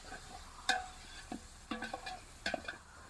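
Country chicken pieces being stirred with masala and ginger-garlic paste in a pan, a few soft scraping strokes with faint sizzling, close and quiet.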